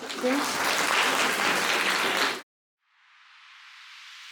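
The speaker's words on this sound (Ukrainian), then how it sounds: "оплески вам" Loud applause from a stand-up comedy audience for about two seconds, cutting off abruptly, then a softer hiss-like wash of clapping rising afterward.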